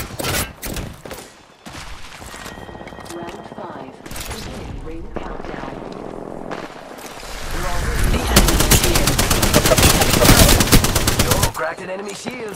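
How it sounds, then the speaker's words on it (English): Automatic weapon fire in the video game Apex Legends, loud sustained bursts that intensify toward the end, with in-game character voice lines heard between volleys. "Shooting. Under fire."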